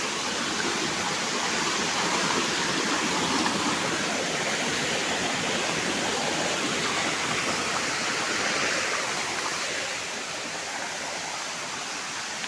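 Rushing water at a waterfall roars as a steady, dense wash of noise, loud and unbroken throughout, easing only slightly near the end.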